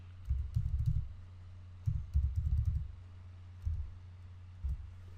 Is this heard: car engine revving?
no